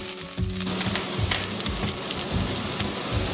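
Oil crackles and spits loudly around frozen ginger dropped into a very hot pan, a dense, continuous sizzle with sharp pops, close up.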